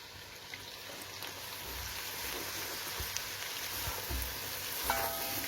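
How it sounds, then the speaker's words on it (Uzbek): Grated pumpkin frying in a pan, with a soft continuous sizzle and a few faint stirring knocks, quiet and close, with no voices. "Buni ham qovurib olamiz 2-3 daqiqa."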